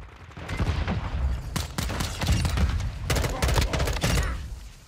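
Pistol fire in Call of Duty Modern Warfare 2, a string of sharp close shots in quick bursts with short gaps, mixed with other gunfire in a busy multiplayer match.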